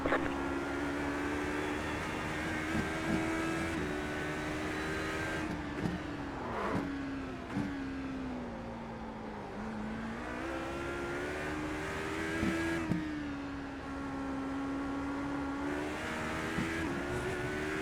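An HPD ARX prototype race car in iRacing howls around Sebring, a steady, loud engine drone rising and falling through gear changes and throttle lifts, alone without talk.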